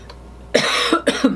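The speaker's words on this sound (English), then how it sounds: "Sorry for the coughing." Several harsh coughs close to the listener, a short burst followed by a couple more in quick succession.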